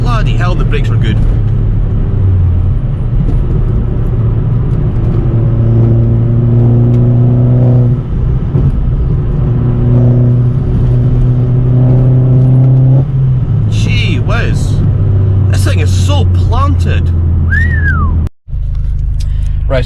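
Interior engine drone of an Opel Corsa OPC/VXR driving and revving, rising and falling through several gear changes before easing off under hard braking; a voice talks near the end, followed by a brief cutout.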